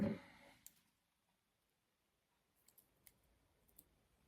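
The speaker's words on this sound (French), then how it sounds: "Hop, mes ciseaux." Scissors cutting paper while making a card, a few faint quiet snips and clicks spaced across the moment after a brief rustle.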